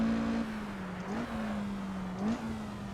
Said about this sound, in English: Let me show you how she drives at speed.